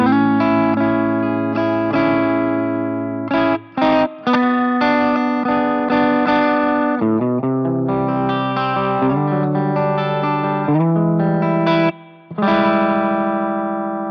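Electric guitar played with a clean tone through a free Soldano SLO 100 virtual amp plugin with global reverb: sustained chords and single notes ring out loud and alone, with a few brief breaks between phrases.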